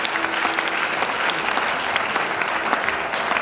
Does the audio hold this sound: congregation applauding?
yes